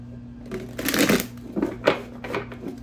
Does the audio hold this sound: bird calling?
no